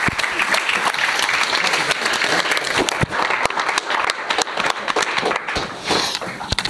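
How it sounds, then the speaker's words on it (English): Wedding guests applaud the groom's speech with sustained, loud clapping, dense and close, with a few sharp individual claps standing out and some crowd noise underneath. "A round of applause to the groom for his wonderful and loving speech."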